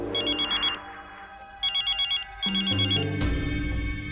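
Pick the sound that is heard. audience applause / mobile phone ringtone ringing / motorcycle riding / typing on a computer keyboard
mobile phone ringtone ringing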